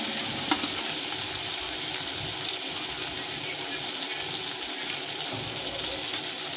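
Tomato masala with chili powder fries and is stirred in a pan, a steady dense sizzle running throughout with a few soft scraping strokes, fairly close and continuous, no voices.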